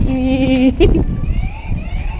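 A voice imitates an ambulance siren, a loud, close wailing tone with a brief pitch wobble that breaks off after about a second and fades into softer sound.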